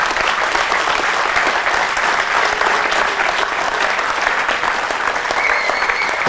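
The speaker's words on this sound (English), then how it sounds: "I think a round of applause for Seth." Seminar audience applauding Seth at the close of a Q&A session, a steady, dense wash of clapping that holds at full strength throughout, close and loud with no talk over it.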